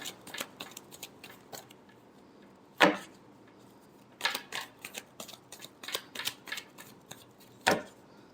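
Tarot cards being shuffled by hand, a run of crisp riffles and slaps coming in bursts, close and fairly loud, with brief pauses in between and no talking.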